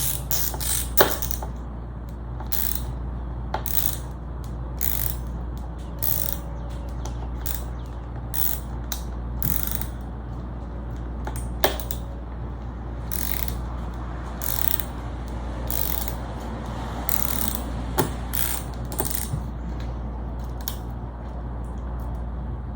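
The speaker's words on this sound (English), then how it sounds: "Put your screw in and begin advancing it. Advance it in." A waxed screw is advanced to adjust the bridge on a quilted maple Stratocaster-style guitar, producing close, repeated creaks and ratcheting clicks in an irregular rhythm over a low steady hum.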